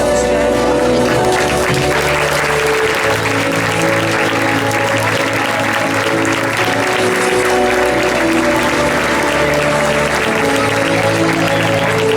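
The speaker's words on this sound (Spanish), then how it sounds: "un fort aplaudiment als nostres protagonistes del 2020" A crowd applauds the children's representatives at their 2020 proclamation ceremony, loud continuous clapping over steady tonal music, with some voices underneath.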